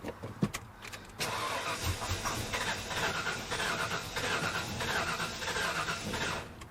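An old Ford F250 small block engine that sat for a decade cranks steadily, turning over with a rhythmic churn and nearly catching but never firing up, heard fairly close.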